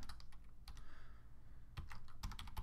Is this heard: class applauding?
no